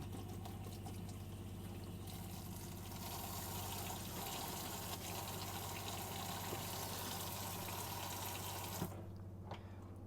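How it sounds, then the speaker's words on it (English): Hot water runs steadily from a tap in a 2024 Swift Voyager 540 caravan in a continuous rushing stream, with a low hum underneath, cutting off near the end. "your hot water's coming through there nicely now"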